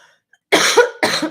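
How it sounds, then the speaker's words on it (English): A person coughs twice in quick succession, close and loud, after a brief near-silent pause. "I'm just going to cough on"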